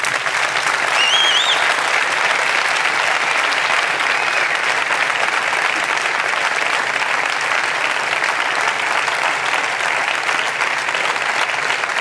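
Sustained, loud applause from a large crowd at a final election campaign rally in El Born, Barcelona, unbroken clapping with a few whistles cutting through early on.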